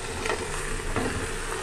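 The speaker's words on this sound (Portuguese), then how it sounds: "Eu tô deixando ele fritando" Pork sizzles steadily as it fries in oil with a little sugar, a soft continuous crackle with faint stirring scrapes and no voices.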